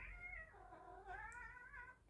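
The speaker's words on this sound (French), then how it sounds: "Il y a un petit chat qui râle." A small cat meows and grumbles in a drawn-out, rising-and-falling complaint, repeated twice in close succession, near and fairly clear against a quiet indoor room.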